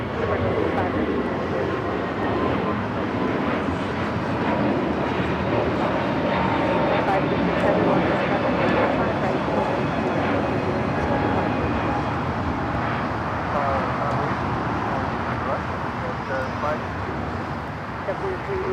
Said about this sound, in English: How about a JetBlue flight taking off to Boston?